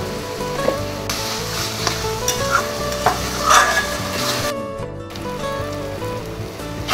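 Taro leaves are stirred in a frying pan with green chillies, a steady loud sizzle under scraping and clinking of the spoon against the metal pan.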